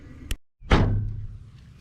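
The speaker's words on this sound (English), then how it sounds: "The trunk lid falls down as well as the hood with kind of a hollow sound." On a 2025 Toyota Corolla LE, a trunk lid or hood drops shut with a single loud, hollow thunk, preceded by a brief click and followed by a short low rumble as the panel settles.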